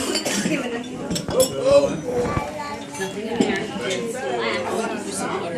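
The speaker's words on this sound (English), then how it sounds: "let's all raise a glass and have a toast like the classy men and women we pretend to be" At a rehearsal dinner toast, glasses clink together in a cluster of light, sharp chinks amid overlapping chatter and voices from a roomful of guests, with cutlery and glassware tinkling around them.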